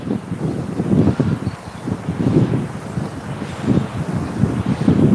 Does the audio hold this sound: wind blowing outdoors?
yes